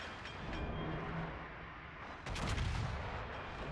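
Naval gunfire in World of Warships, heard as a heavy broadside boom that bursts over a constant rumbling engine and sea drone midway through, then rolls away.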